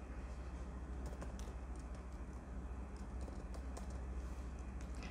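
Typing on a computer keyboard while entering an email address on a Gmail page, a steady run of quick clicky keystrokes held low under a constant background hum.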